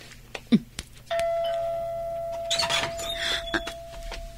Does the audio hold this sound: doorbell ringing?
yes